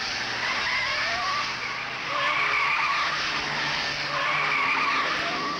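Ford Falcon GTHO race cars stream through the Esses at Bathurst in 1971, a continuous far-off engine roar that swells and fades in waves as cars pass, with faint tire scrub and no talk.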